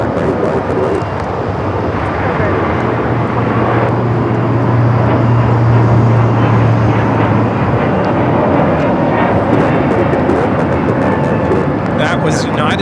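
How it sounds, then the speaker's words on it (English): United Airlines Airbus A321neo jet roaring on takeoff at a busy airport, a steady broadband engine rumble that holds loud throughout with a faint distant hum beneath. "That was United Airlines 2061 taking off to Denver, Colorado on the A321neo."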